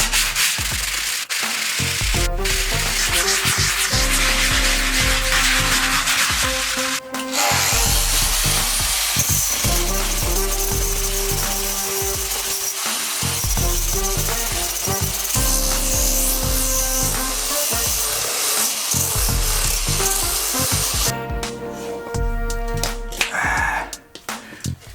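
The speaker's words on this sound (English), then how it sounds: "The sanding, it is tiring." Sanding epoxy on the interior wall of a sailboat, with continuous abrasive rasping strokes that run loud and close for the whole stretch, briefly pausing near the start and again toward the end.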